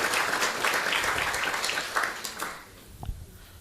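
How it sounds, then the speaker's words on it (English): A forum audience applauds to welcome a minister, brisk clapping that thins out and dies away near the end, leaving a couple of stray claps. "may we please welcome him with a round of applause."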